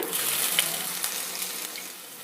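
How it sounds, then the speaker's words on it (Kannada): Mustard seeds with urad and chana dal fry in hot oil in a pan, giving a close, bright crackling sizzle with small pops that gradually eases. "ಎಣ್ಣೆ ಬಿಸಿಯಾಗಿದೆ ಸಾಸಿವೆ ಹಾಕ್ತಾ ಇದ್ದೀನಿ"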